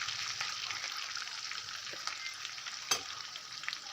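A handful of curry leaves crackle and sizzle in hot oil, a steady bright frying hiss broken by a few small pops and stirring taps.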